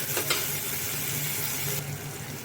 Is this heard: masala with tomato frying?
yes